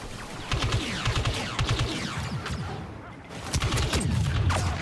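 Turret gunfire in the snowy Star Wars Battlefront 2 video game, a dense, continuous burst of rapid shots with whooshing blaster sweeps, loud and close, briefly easing before the barrage picks up again.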